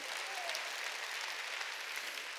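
A church congregation applauds during a worship service, a soft, fairly distant, even patter of many hands clapping without a break.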